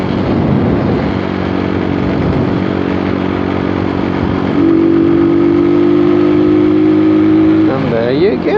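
A motorcycle rides home at night from Cardiff to Porth, its engine a steady, close drone that swells and climbs in pitch as it accelerates, while someone talks over the noise.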